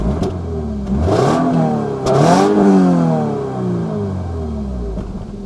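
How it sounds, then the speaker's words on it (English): A 2022 Subaru BRZ's exhaust revs sharply twice in quick succession, each rise snapping up then dropping back to a deep, burbling idle, loud and close. "I see 2 giant exhausts, and they sound like this."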